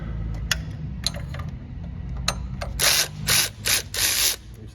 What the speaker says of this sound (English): I got my ratcheting wrench.